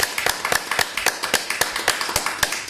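Studio audience clapping for a doctor who is a guest on a Spanish-language television talk show, heard as crisp, evenly spaced claps in a steady rhythm with no talking.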